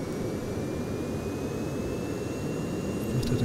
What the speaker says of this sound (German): das Flugzeug dreht sich schon